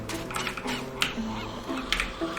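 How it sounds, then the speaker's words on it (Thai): Minecraft zombies give a series of low, honking groans at an even, moderate level, spread across the moment with short gaps between them. "ผมได้ยินเสียงซอมบี้"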